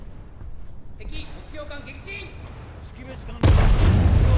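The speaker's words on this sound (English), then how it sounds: "And of course the cruiser got detonated the second I fired." Naval gunfire in a warship battle video game, with a cruiser detonating: quieter battle noise and scattered sounds give way to a sudden loud, roaring blast that holds to the end.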